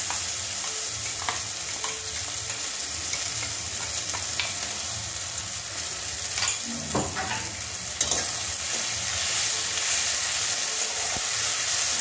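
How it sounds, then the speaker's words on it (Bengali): Ginger and green chili paste fries in hot oil with a steady close sizzle, broken by a few clanks and scrapes of a stirring spoon, loud and continuous without talk. "ভালো করে ভেজে নেব।"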